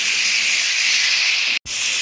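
Spices with ginger-garlic paste frying for a fish and eggplant curry give a loud, harsh steam-like hiss. The hiss cuts out briefly near the end and then resumes.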